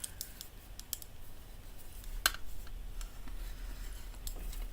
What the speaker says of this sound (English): Let's fold my card base.